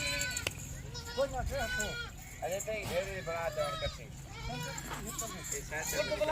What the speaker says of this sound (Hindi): ये देखें एक बकरी के साथ कितने बच्चे हैं माशाल्लाह।